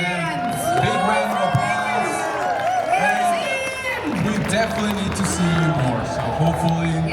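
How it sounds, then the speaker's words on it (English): Convention panel audience for an Invader Zim voice-cast event bursts into loud sustained applause with whoops and cheers, a dense crowd roar with voices calling out over it. "Big round of applause."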